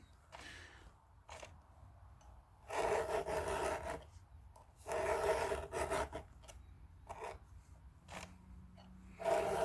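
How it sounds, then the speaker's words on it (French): A hand file rasps across chainsaw chain links, several separate bursts of close, gritty scraping stroked upward, split by short quiet pauses, with no talking. "je lime plutôt en montant, comme ça. Comme ça force sur le haut du maillon."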